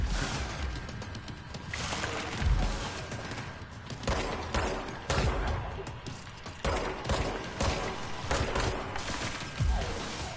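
Gunfire in the video game Control, several sharp shot bursts and thumps at irregular intervals, fairly distant and moderate in level.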